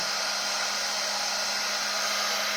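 A Stilevs Fönmatik Fn-778 hair dryer blows on its cold setting, a steady, close, airy whoosh with a faint tonal whine that holds constant throughout, with no voices.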